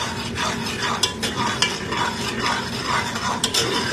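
Curry simmering in oil with fresh cilantro being stirred, giving a steady close sizzle with scraping strokes and a few sharp clicks of the spoon against the pan, and no voices.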